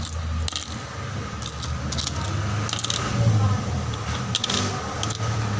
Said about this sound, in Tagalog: Dami kong barya.